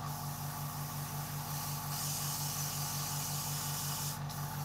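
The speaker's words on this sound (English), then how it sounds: "I think my airbrush needs cleaning" An airbrush sprays paint in a fine misty coat during a scale model build, its airbrush reportedly in need of cleaning: a steady, continuous hiss with a low motorised hum from the compressor underneath, close and unbroken.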